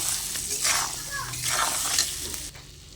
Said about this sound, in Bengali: এবার দিয়ে দেবো টমেটো কুচি, মটরশুঁটি দিয়ে একটু ভালো করে কষে নেব।